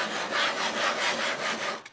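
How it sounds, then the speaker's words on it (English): A hand plane sole is lapped on oiled silicon carbide abrasive powder, giving a close, steady gritty rubbing in rhythmic back-and-forth strokes that ends with a sharp knock. "We're all ready to try some lapping here of the sole."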